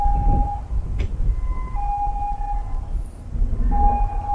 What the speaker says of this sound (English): I can hear an emergency vehicle coming.